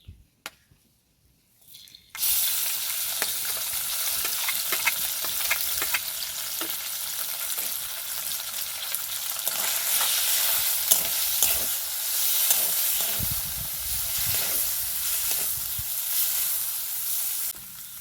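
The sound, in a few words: rui fish frying in ghee in a pan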